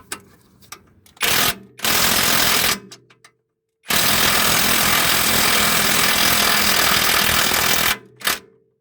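A power tool loosens the top nut on a car's shock absorber in short bursts: a brief whir, a longer burst, then a sustained run of several seconds, separated by quiet pauses.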